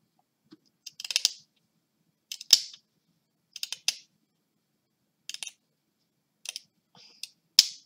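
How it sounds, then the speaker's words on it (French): Scissors cutting paper flush along an edge for a scrapbook photo album, heard as about seven short, crisp snips in separate clusters, close and fairly quiet, with no talking. "je vais juste garder le côté alors je coupe au ras."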